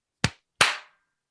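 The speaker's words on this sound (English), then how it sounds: "So just try to like clap close to your mic." Two loud hand claps close to the microphone for audio sync, the second sharper and longer-ringing, separated by a short pause and followed by silence.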